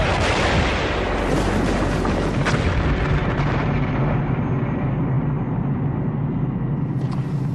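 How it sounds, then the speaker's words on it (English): A Bangalore torpedo detonates against a barbed wire entanglement, a loud, sustained, rumbling blast roar that fills the whole stretch and slowly tapers, with no voices over it. "the Bangalore torpedo has blown a channel right through our barbed wire entanglement"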